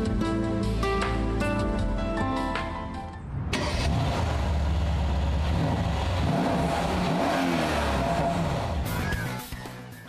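Mercedes SL with a 5.5-liter twin-turbo engine accelerating hard, a loud, close engine roar building after a brief lull and holding steady for several seconds, with music layered underneath.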